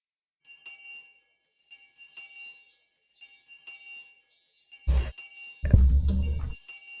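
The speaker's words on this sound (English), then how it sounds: "The bell rang." Soft chiming bell tones from the video game Higurashi: When They Cry ring out in a sparse, tinkling pattern, then a heavier low thud and rumble follows near the end.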